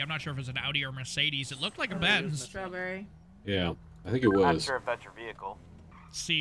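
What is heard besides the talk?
No distinct noise like a dog, phone or traffic.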